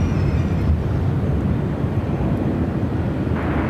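A SkyWest regional jet taking off from Phoenix airport, a steady loud roar of engines rumbling continuously with heavy wind-like broadband noise, fairly close and with no voices.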